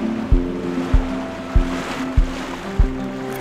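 Waves wash and slap against a boat hull in a steady rhythm at sea off Ærø, Denmark, with a low engine-like drone running underneath throughout.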